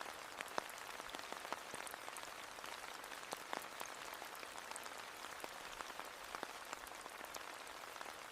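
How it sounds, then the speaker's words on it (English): Steady rain falls on an open wildflower meadow, a dense even patter of countless drops with scattered sharper nearby hits, fairly quiet and continuous, with no voices. "As the rain picks up,"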